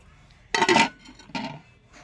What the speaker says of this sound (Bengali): হাঁড়িটা বসিয়ে দেবো।